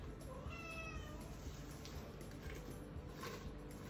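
A house cat meows in a home kitchen during macaron baking, a few faint, drawn-out cries that rise above a steady low background hum.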